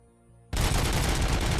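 A machine gun turret in RoboCop: Rogue City fires one continuous, loud and dense burst of rapid shots that starts abruptly after a brief quiet hum.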